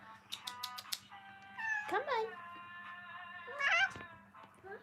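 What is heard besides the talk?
cat meowing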